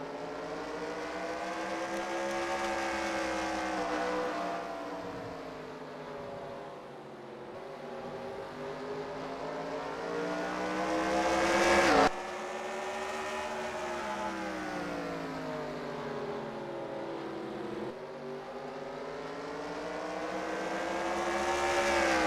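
Several late model race cars circling Myrtle Beach in the NR2003 racing game, their engines droning steadily with rising and falling pitch as they pass, loud and continuous throughout with no talk.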